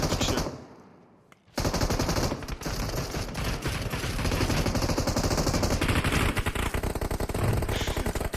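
Gunfire in the mobile game PUBG Mobile: after a brief quiet lull, rapid automatic bursts break out and continue loud and dense, volleys overlapping in a sustained close firefight.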